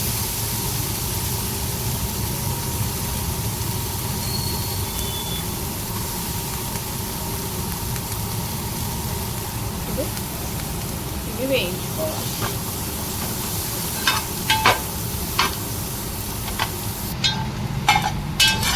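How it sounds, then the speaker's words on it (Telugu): Carrot, beans, capsicum and cabbage stir-fry in a pan for egg fried rice, a steady hissing sizzle under a person talking, with a few clinks of a utensil near the end. "క్యారెట్ బీనీస్ క్యాప్సికం మంచిగా వేగిపోయినాయి"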